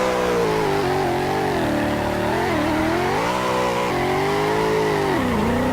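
A BMW M3 GTS drifting, its engine revving up and down through the slide while tires squeal continuously, loud and close, with no talking.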